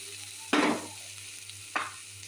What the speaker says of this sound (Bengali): এবার আমি চিংড়ি মাছগুলো দিয়ে দেবো। চিংড়ি মাছও এরকম লাল লাল করে একটু হবে।